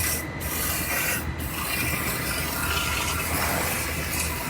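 Aerosol of 3M cavity wax spraying from a 360-degree nozzle inside a newly welded Toyota body structure, a continuous close hiss with a rough, rushing texture and no pauses.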